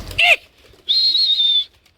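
Pet pigeons kept as a hobby flock, two close calls: a short coo followed after a pause by a longer, steady call lasting under a second, near and fairly loud with no talking.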